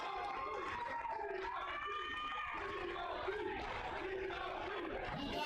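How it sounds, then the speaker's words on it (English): Supporters in the crowd at a sparring exhibition chant in a rhythmic, distant-sounding roar, with voices rising and falling under a continuous hubbub. "You can hear him chanting for him out there in the crowd."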